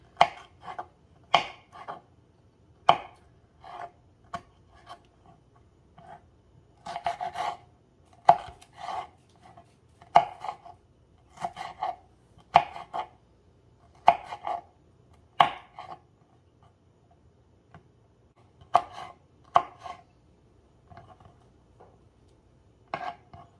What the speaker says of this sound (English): we have those tomatoes all diced up